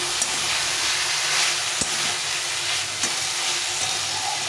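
Mustard greens with potato and eggplant frying in a pan, a loud steady sizzle close by, broken by a few scraping and tapping stirs of a spatula, no voices.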